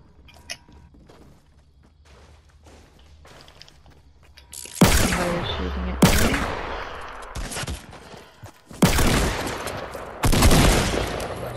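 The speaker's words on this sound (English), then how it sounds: "2 revolver shots" Revolver shots in Fortnite ring out loud and close in a few heavy, separated blasts after a quiet stretch with faint game sounds and no talk.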